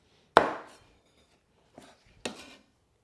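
Three crisp knife chops strike a board as pork chops are cut into bite-size pieces, one loud hit followed by two softer ones after a pause, close and isolated.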